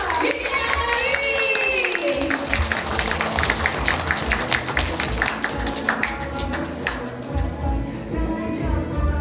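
Audience applause for a guest being welcomed at an event in Jember, with dense clapping and crowd noise sustained throughout, mixed with background voices and a low hum.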